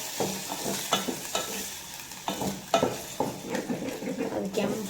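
Sago pearls frying in hot ghee are stirred around a pan, giving a steady sizzle with repeated scraping and stirring strokes close by, no talk.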